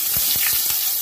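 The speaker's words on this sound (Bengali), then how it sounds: "এবার আমি এটাকে কমিয়ে দিয়ে টমেটোটাকে ছেড়ে দিচ্ছি। টমেটোটাকে ভেজে নেব।" Tomato pieces frying in hot oil seasoned with a pinch of asafoetida for a soybean muitha curry, a steady loud sizzle with a few soft stirring strokes, close up and without voices.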